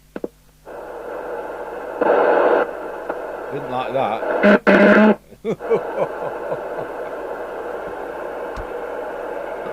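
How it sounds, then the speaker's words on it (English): Harvard CBM404 UK FM CB radio with the squelch down and suspected faulty amplifier capacitors, giving a steady buzzing hum and static with brief louder bursts, while a voice talks over it. "That sounds like duff capacitors in the amplifier, to be honest."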